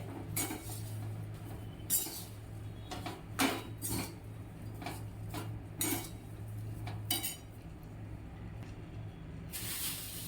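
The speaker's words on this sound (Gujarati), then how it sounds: "મરચાં એડ કર્યા બાદ આપણે તેને સારી રીતે મિક્સ કરી લઈશું" A spoon stirs chillies in a bowl for a Gujarati pickle, with irregular metallic clinks and scrapes against the bowl and occasional louder knocks over a faint background hum, with no talk.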